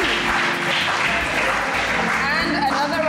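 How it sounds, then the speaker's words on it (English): A studio audience applauds a guest on a cooking show, with steady, dense clapping from a crowd throughout, loud and close. "A round of applause for him, please."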